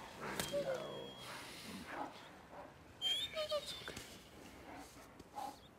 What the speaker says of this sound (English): He's not infected. He's just a dog.